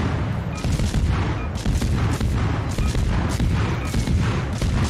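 Heavy warship guns in World of Warships keep up a dense, continuous barrage of booming fire, loud and close, with no talking.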